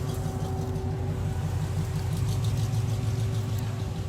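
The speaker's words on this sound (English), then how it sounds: "Let's see what he's got for power in there. Nice little small block Chevy." A small block Chevy V8 idles steadily with a low, lumpy rumble that holds constant throughout, close by and fairly loud, at the 2020 Street Rod Nationals.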